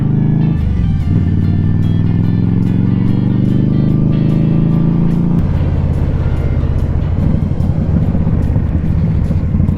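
Indian Scout motorcycle on backcountry mountain roads, a loud, steady engine drone with rising and falling revs as it accelerates and shifts, close to the microphone with wind buffeting throughout.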